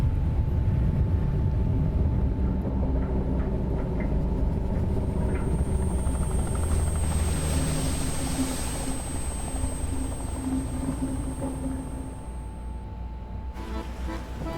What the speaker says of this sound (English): the executive board's helicopter rotor is already spinning